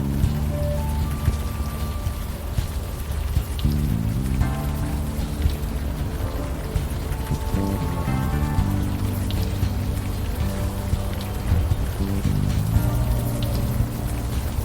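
Steady rain falling in the video game Unavowed, a continuous loud patter of drops over a tonal game music backdrop, with no talking.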